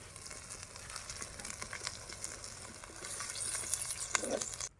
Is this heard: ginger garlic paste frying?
yes